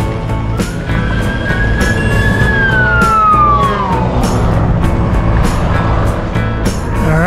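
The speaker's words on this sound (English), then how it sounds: "Fire engine coming." A fire engine siren wails past on an open road, one long falling tone rising to full volume then sliding down as it recedes, heard close over steady wind and road noise.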